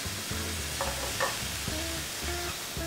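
Vegetables and mushrooms stirred in a pan for a rustic Mediterranean pie, soft sizzling under repeated scraping and clinking strokes of the utensil, close and moderately quiet, with no talk.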